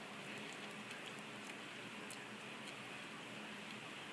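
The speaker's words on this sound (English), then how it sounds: "And now back to the rain." Rain falls steadily, a soft, dense patter of drops with occasional sharper taps, continuous and faint, with no talking.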